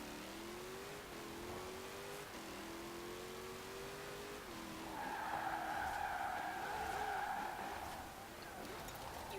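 A Jeep Willys drives and skids in the racing game Forza Horizon 4 during a cross-country race on a south coast course. A steady engine drone runs throughout, with a higher tire-squeal band rising midway, fairly faint.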